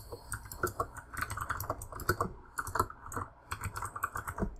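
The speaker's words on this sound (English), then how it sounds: "I know my keyboard's loud, I apologize." Rapid, clattery typing on a loud computer keyboard, keys striking in quick uneven bursts, close and alone.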